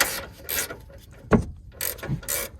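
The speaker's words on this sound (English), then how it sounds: "start it first and then start cranking it down" A wrench cranks down the lock nut on a Bilstein 5100 shock absorber fitted to a 2018 Chevy Silverado 2500, giving a few close ratcheting bursts with a sharp metallic clunk in the middle.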